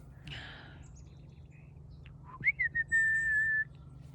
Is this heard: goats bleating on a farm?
no